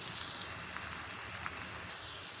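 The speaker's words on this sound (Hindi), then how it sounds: "अब इसको हम गोल्डन फ्राई होने तक फ्राई करेंगे।" Onions fry in a pan until golden, the start of a chickpea salan, giving off a steady, fairly quiet hiss and crackle of sizzling oil with no talking.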